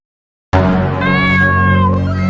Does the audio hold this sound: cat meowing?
yes